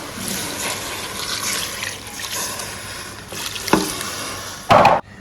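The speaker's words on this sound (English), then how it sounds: "Guys, I've added some water to my pot." Water pours and trickles into a cooking pot of Ghanaian ayoyo leaf soup with dried fish, crab and tomatoes, a steady close splashing that ends in a brief louder gush.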